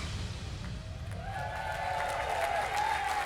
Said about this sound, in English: Pam Parks has the biggest cheering section here tonight